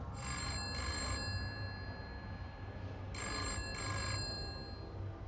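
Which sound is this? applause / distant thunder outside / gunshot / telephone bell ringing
telephone bell ringing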